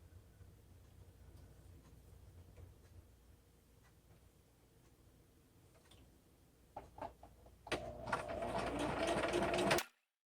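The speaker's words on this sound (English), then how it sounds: "Going to take this to the sewing machine and we're going to sew down this side." A sewing machine fitted with a zipper foot stitches down the side of a fabric pouch, starting with a few short bursts and then running in a fast, steady whir close up before stopping abruptly.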